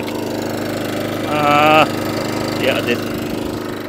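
A Kawasaki engine on an Atco Balmoral cylinder lawnmower starts on the first pull at half choke, giving a short louder burst over a steady mid-pitched idle, with a voice speaking briefly alongside.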